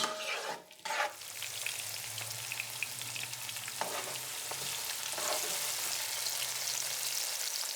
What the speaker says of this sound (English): I'll heat up my onion for about 3 to 4 minutes on a medium to high heat